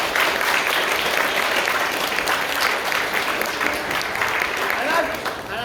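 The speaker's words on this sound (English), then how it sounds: "applause for that." A crowd at a FIRST LEGO League regional competition in Coventry gives a sustained round of applause, dense and loud, holding steady throughout with a slight easing at the very end.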